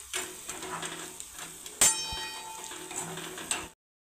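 Chilli powder, turmeric and garam masala are stirred into ginger and garlic in a cooking pan, giving soft scraping and light sizzle with a few metallic clinks of the spoon, one sharper clang in the middle.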